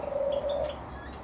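Red-rumped parrot calling in an aviary: a fairly loud, sustained whistling note lasting about half a second, followed by fainter short chirps, with no talking.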